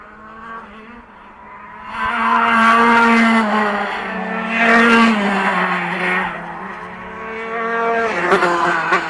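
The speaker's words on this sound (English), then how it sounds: "you can hear the tyres and how slippy it is out from out here" Retro racing karts at a Formula C championship round at Rissington, tyres squealing on a slippery track; sustained tonal screeches rise and fall across the clip, loud and fairly close, with engine noise beneath.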